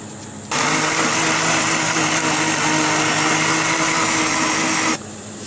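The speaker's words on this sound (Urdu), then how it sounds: "2 ٹماٹر ڈال کر ان کو گرائنڈ کر لیں" Electric grinder blending two tomatoes, with a loud, steady motor whir that starts abruptly, runs for about four seconds at an even pitch and then cuts off, with no voices.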